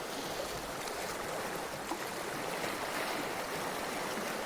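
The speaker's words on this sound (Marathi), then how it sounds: "कसलं चाललंय पाणी नुसतं." Water rushes and flows steadily at moderate loudness, a continuous broadband gush with no talking over it.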